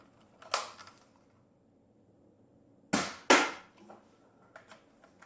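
A Nerf gun fires foam darts at targets: one sharp pop near the start, then two loud shots in quick succession around the three-second mark, followed by faint small clicks and taps.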